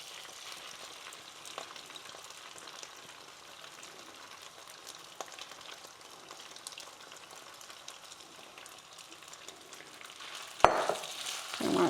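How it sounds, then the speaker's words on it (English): Pork sizzling and crackling steadily in hot oil, with a louder burst of sizzle near the end as more pork is added. "Now we're going to put in our pork"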